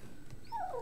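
A dog whimpers in a thin, high whine that rises and trails off over a low background murmur, fairly faint and heard without talking over it.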